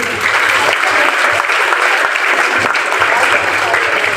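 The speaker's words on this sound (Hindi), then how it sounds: "अपने लिए ताली बजा दो एक बार" An audience of schoolchildren at a youth group event claps loudly and steadily, a dense, close wash of applause that holds without a break for about four seconds.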